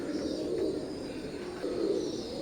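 KTM Teddy pigeons cooing softly and steadily, close by, in low repeated coos with a faint background hum and no talk.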